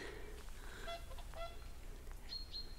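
Geese honk repeatedly as they fly over Inverewe Gardens in the Scottish Highlands, their calls overlapping in a steady, moderately loud chorus over a constant outdoor background hiss.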